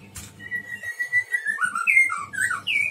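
A tame coconut sunbird calls close by with a run of thin, high whistled notes that slide and rise, several short phrases in quick succession against a quiet background.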